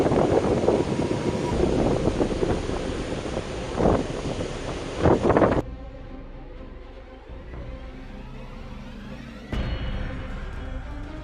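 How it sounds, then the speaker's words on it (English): Super Typhoon Meranti drives wind and waves into a harbor coast, producing a loud roar of wind buffeting and surf. It drops to a quieter wash midway, then a gust returns near the end. "Meranti sent waves more than 30 feet high crashing into the coast,"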